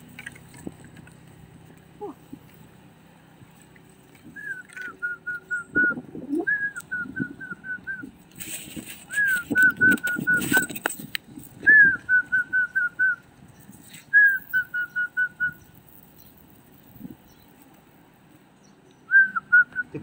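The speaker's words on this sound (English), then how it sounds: "I also feed the wild pigeon." Wild pigeons gather to be fed bird food, their soft rhythmic cooing calls repeating in short bursts close by, with wing flutters and rustling between calls and brief faint noises under a quiet background.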